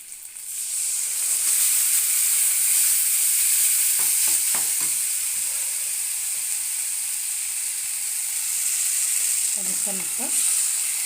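Ground masala paste sizzling steadily as it is stirred into chicken curry, a loud continuous hiss with brief scraping stirs; a voice speaks briefly.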